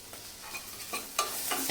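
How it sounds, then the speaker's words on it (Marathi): Onion, ginger and garlic sautéing in a pan for a Marathi potato bhaji, with a soft steady sizzle and a few distinct scraping stir strokes close by, no talking. "मिक्स करायचं आणि आणखीन एक पाच मिनिटं आपल्याला हे छान परतून घ्यायचे"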